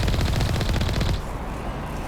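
Rapid automatic gunfire in the Mass Effect video game, a dense close burst of shots for about a second before cutting to quieter game ambience.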